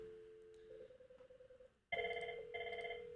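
An IP phone on a Cisco CUCM call-manager setup rings from an incoming call placed from line 1: a wavering electronic tone, a short pause, then a louder, sharper repeating ring pattern up close.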